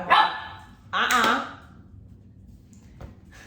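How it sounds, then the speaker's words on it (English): A mini goldendoodle puppy barks twice, two short bright yips about a second apart, close by and fairly loud, followed by a faint tap. "Oh guys, we got a new puppy."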